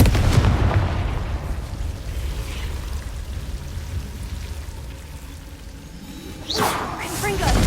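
Fiery Confringo spell blasts in the Hogwarts Legacy video game, a loud burst at the start, a sustained rumbling roar through the middle and a second whooshing burst near the end, with a voice speaking over it.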